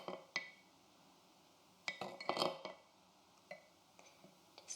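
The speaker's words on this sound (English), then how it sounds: "And give it a stir." A spoon clinks against a glass while Chinese herbal medicine powder is stirred into water, giving a few sharp, light taps in a short cluster in the middle and scattered single clinks around it, close and fairly quiet.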